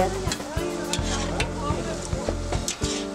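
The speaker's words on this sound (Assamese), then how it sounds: "এয়া মাংস ফ্ৰাই কৰিছে" Meat fries in a pan during a Mising ritual feast, a steady close sizzle broken by regular scraping stirs of a utensil against the pot.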